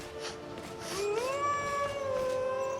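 A cat in the modded video game Skyrim lets out one drawn-out, rising meow, fairly close and clear above a soft background murmur.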